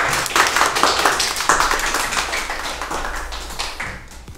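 Applause for the winner of a fifth-grade math quiz game breaks out in a room, a dense burst of many hands clapping that stays loud, then gradually thins and softens over a few seconds.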